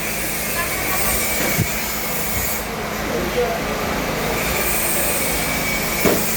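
A moving train rumbles steadily from inside a carriage, with occasional wheel squeals and soft knocks along the track.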